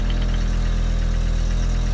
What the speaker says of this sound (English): In here I got a pretty good exhaust leak yet.